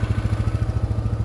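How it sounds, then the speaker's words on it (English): A four-wheeler ATV engine chugs at idle while being moved, a close, steady, rapid pulsing putter with no talk. "He's gonna help me move this four-wheeler"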